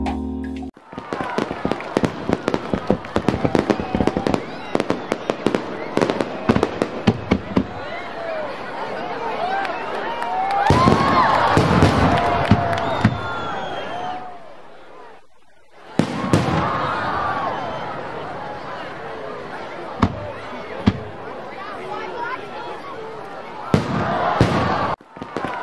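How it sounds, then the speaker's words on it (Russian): Fireworks set off for a sister's birthday celebration crackle and burst in dense, loud volleys, pausing briefly midway before resuming, with excited voices and crowd chatter mixed in. "Фейерверк"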